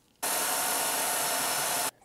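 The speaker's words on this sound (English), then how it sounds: "I need to just finish drilling out this post" A power drill bores out a post on a Volkswagen, one loud steady whir lasting under two seconds that starts and stops abruptly, close and with no talk.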